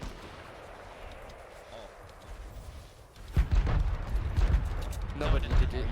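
Grenade blasts and gunfire in a squad-based shooter video game: quiet murmur at first, then a sudden loud burst of booming explosions and rattling shots, with players talking over the action.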